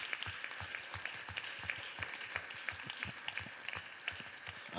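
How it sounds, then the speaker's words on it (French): An audience applauds event organisers at a French gathering, a continuous patter of many hands with some sharper individual claps standing out, moderately quiet and heard alone with no talk. "Si on peut les applaudir, s'il vous plaît."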